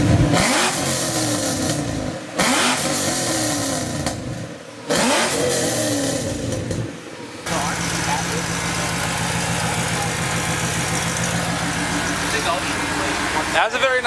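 A car engine revs repeatedly in sharp bursts, dropping back between throttle blips before settling into a steady loud idle, with people talking nearby.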